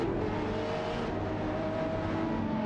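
Agera race car engine in a racing video game, a loud, continuous high-revving drone with steady engine tones and no pauses, close and unbroken.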